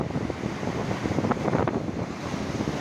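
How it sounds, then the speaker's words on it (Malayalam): Sea water surges and splashes against the shore in a continuous rushing wash, with gusty wind buffeting the microphone and a low rumble underneath. "ആ വെള്ളം അടിച്ച് കയറുന്നുണ്ട്."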